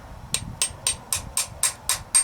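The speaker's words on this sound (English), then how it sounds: "I'll tap it in with a hammer" A small hammer taps a metal pin into a Chevy HHR/Cobalt shifter part in eight light, evenly spaced metallic strikes, close and clear against a quiet background.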